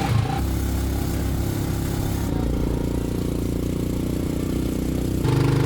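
A small motorbike sidecar engine labors steadily at low revs going uphill, droning loudly and continuously with a rough, strained tone.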